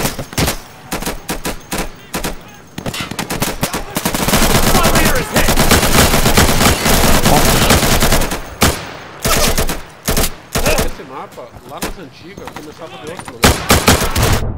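Bursts of automatic rifle fire in the tactical shooter Insurgency on the Market checkpoint co-op map, loud rapid volleys with a long sustained stretch of continuous shooting in the middle and sharp isolated shots around it.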